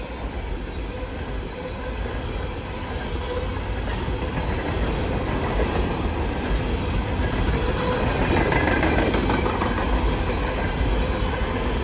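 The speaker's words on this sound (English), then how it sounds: "Empty coal train!" An empty Norfolk Southern coal train rolls past close by in Ironton, a loud continuous rumble of wheels and rattling cars with faint clickety-clack and occasional squeal.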